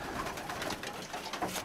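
A young blue male racing pigeon coos in a pigeon loft: a steady, close, soft cooing that rolls on without pause, with no voices over it.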